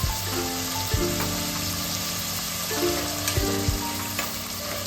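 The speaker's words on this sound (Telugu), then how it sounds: "హాఫ్ స్పూన్ పసుపు ఫ్రై అయిందండి పెసలు ఫ్రై అయినాయి" Moong lentils and turmeric frying in oil in a pan, a continuous close sizzle broken by a few sharp stirring clatters, no voices.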